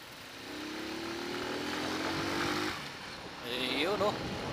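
Motorized tricycles crawling through congested traffic, their small engines buzzing and droning nearby, with a rising whine as one passes close, under chatter and road noise.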